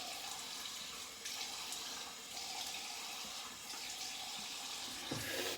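Cold tap water runs steadily as something is rinsed under it, giving a continuous close splashing rush that swells slightly at moments and stays alone without talk for the full few seconds.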